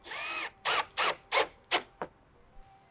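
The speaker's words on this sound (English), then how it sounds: "So now you're going to reuse the factory 7mm screw in this far back hole. Tighten it down." A power tool tightens the factory 7 mm screw on a car, first with one sustained whir and then five short bursts that grow shorter, loud and close, ending in silence.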